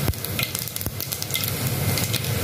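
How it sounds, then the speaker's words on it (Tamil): Mustard seeds splutter and pop in hot oil while tempering for crab rasam, a constant close sizzle punctuated by sharp crackling bursts. "கடுகு பொரியுது ஃப்ரெண்ட்ஸ்"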